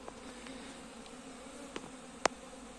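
Honey bees fly around wooden hives in an early spring apiary, making a soft, steady buzzing with a few faint clicks and one sharp tick.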